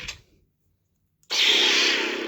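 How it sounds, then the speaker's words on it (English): A brief click, a pause of silence, then a bright electronic hum swells on and holds steadily, loud and close, as a toy lightsaber turns on. "All right, turn the Saber on."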